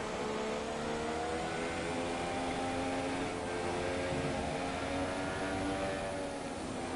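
A Sauber racing car engine drones at steady revs on an outlap in a Mexico Grand Prix video game, a continuous onboard hum heard alone.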